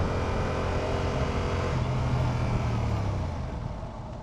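A motorcycle engine runs steadily while riding, a broad continuous drone with a low tone that rises briefly mid-ride before easing off, with no talking.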